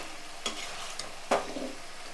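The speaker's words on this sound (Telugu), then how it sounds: "మొత్తం బెండకాయలు వేసేసాను, ఒక్కసారి కలుపుకున్నాను." Okra stirred in a frying pan: a constant low sizzle of oil broken by two sharp scraping stirs, close by and with no voices.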